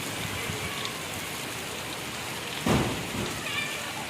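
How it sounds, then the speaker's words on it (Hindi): Heavy rain pours down in a steady, dense hiss, with a brief louder splash of water partway through. "ये देखिए बारिश है, अंदर सारा पानी आ गया।"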